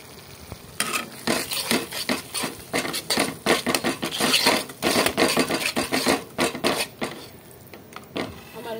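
Cauliflower being stirred and sautéed with bay leaf and spices in a pan, a busy run of scraping spoon strokes over steady frying sizzle, close and fairly loud with no talk.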